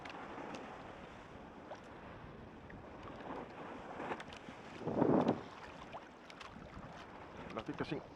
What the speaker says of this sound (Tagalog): Laki kasing alon.